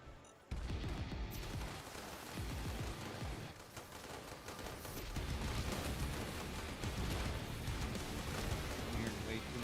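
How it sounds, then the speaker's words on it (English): Rapid gunfire in a robot-fighting video game crackles continuously, dense bursts layered over a noisy, busy background for several seconds. "I'm hearing way too much gunfire."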